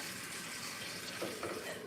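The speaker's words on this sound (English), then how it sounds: "I'm going to fill it with 1 cup of distilled water over here. I just got a new faucet in my little pad." Distilled water pours from a new faucet into a cup, a soft steady rush of running water, faint and continuous throughout.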